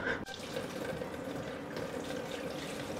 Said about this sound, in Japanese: ダメだ途中だけどこれお湯捨てないと